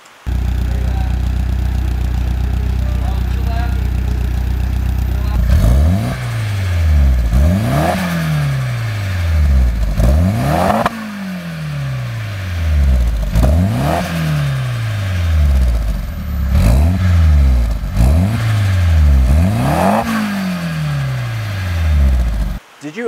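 Nissan S13 180SX with aftermarket downpipe and HKS exhaust, idling and then revved again and again, each sharp rise in pitch followed by a falling settle back down, close and loud.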